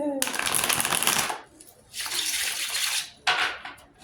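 A tarot deck being shuffled and cut, with bright riffling bursts of card noise in three separate rounds, close and loud, separated by short gaps.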